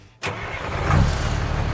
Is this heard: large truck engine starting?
yes